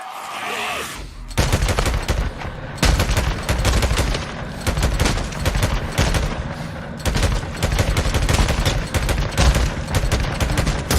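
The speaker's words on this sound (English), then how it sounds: "MG55 ready" Rapid, sustained bursts of MG55 machine gun fire in the video game Days Gone, loud and dense for over nine seconds after a brief quiet lead-in, with barely any gap between shots.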